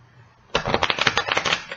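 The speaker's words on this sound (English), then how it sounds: "All right, one more shuffle." Tarot cards riffle in a quick fluttering shuffle, close and crisp, a rapid run of soft flaps lasting about a second.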